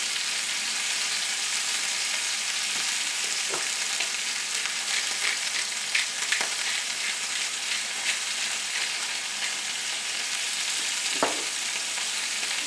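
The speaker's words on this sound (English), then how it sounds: "Drop our pork chops." Pork chops frying in a pan, with a constant loud sizzle and crackle that continues throughout and a few sharp pops and clicks scattered across it.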